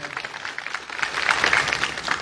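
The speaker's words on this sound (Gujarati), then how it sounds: "એવા અમૃતલાલ માટે પણ જોરદાર તાળીઓ થઈ જાય" A crowd at a Gujarati political rally claps in a dense, steady burst of applause that builds slightly toward the end, filling the whole short stretch.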